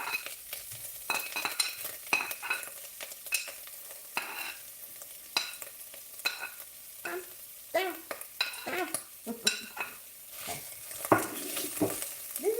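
Chanterelle mushrooms sizzle and fry in a pan, with frequent scraping and stirring clatter from a utensil throughout. No one speaks.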